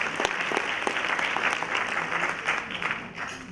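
A crowd claps at an evening event, dense steady applause with a few sharper individual claps popping out, filling the whole stretch at a fairly loud, close level before easing slightly at the end.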